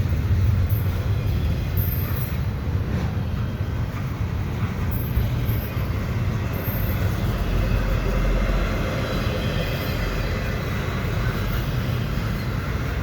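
A Canadian Pacific freight train of stacked cars, led by one locomotive with a DPU unit, rolls past at Dorval in winter, a steady loud rumble of wheels and cars that continues without a break.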